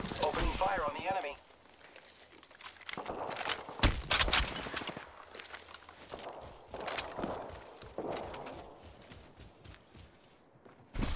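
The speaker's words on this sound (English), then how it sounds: "Contact with target. Opening fire on the enemy." Gunfire crackles through a match of the video game Apex Legends as rapid bursts of shots mixed with footsteps and mechanical clatter over about eleven seconds, loud and busy throughout, with voices talking in places.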